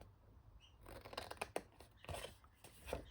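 Scissors snipping paper for a handmade card insert, a quiet run of short crisp cuts close by, with a few separate snips and no talk.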